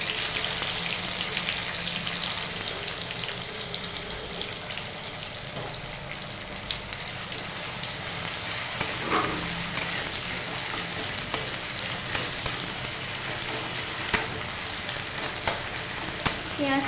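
Sliced onions sizzle and fry steadily in hot oil with ginger-cumin paste, a dense continuous crackle with occasional scraping stirs, close and loud, no talking.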